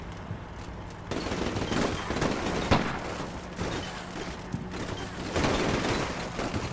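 Bursts of automatic machine gun fire from a team in a building rattle through a combat scene in Combat Mission Shock Force 2, overlapping with scattered gunshots and distant booms throughout.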